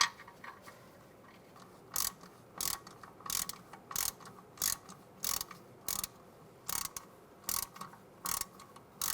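A ratchet wrench loosens a bolt during rear parking brake shoe replacement on a 2006-2009 Mercedes-Benz E350, about a dozen crisp, evenly spaced clicking bursts, close up with no talk.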